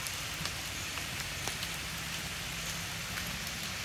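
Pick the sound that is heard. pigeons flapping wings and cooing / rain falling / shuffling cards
rain falling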